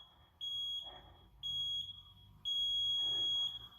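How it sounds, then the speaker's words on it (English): A Tabata interval timer buzzer during an elastic band HIIT arm workout sounds three times as loud, sustained high electronic tones, each about a second long, over faint background noise. "I want to let that buzzer go by."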